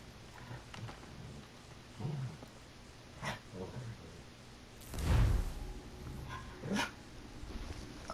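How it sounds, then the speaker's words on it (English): A dog in Assassin's Creed III gives a handful of scattered barks and yips, fairly close, separated by pauses over low background noise. "My dog's here now."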